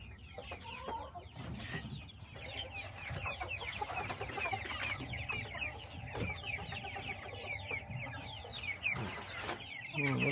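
Chicks and hens clucking and cheeping around a feed container on a farm, a dense continuous chorus of close bird calls with some handling noise underneath.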